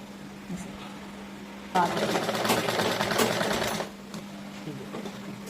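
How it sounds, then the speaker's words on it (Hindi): Sewing machine stitching a side-pleated kurti runs in one steady rapid whir for about two seconds, close and clear over a low room hum, with faint talk around it. "हम इसे पॉइंट पे रख के सिलाई बीच में रख के सिलाई लगाऊंगे।"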